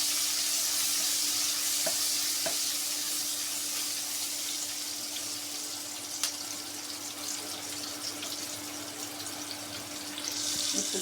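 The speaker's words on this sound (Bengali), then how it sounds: "এখন একটু পেঁয়াজ দেব। পেঁয়াজটাকে একটু হালকা নরম করে নেব।" Onion softening in hot oil for a Bengali-style silver carp bhuna, a steady soft sizzle running throughout with occasional light stirring clicks, close and continuous with no talking.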